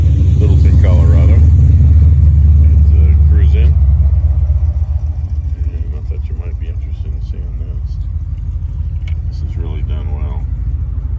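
A classic car with side exhaust pipes and a four-speed manual rumbles loudly nearby in a Dairy Queen parking lot in Littleton, Colorado, a deep throbbing idle that eases slightly midway while people talk over it.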